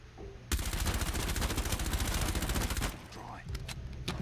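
Sustained rapid automatic gunfire from a window in Rainbow Six Siege, loud and dense for about two and a half seconds, then a few scattered single shots afterward.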